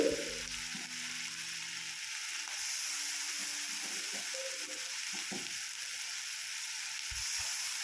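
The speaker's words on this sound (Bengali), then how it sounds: "তারপর দিয়ে দেওয়া হলো পেঁয়াজ বাটা তারপর টমেটো পিউরি" Onion paste and tomato puree fry in a pan for a chital fish curry, giving a steady close sizzle and hiss with a few soft stirring knocks near the start.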